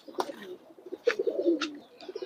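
A pigeon in a loft coos softly in a few short, low throaty bursts, faint and close, with brief rustling between the calls.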